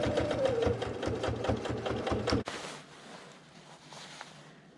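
Sewing machine stitching the cuffs of a parka, a loud, close, rapid mechanical chatter that runs for about two and a half seconds and then stops abruptly, leaving quiet room noise.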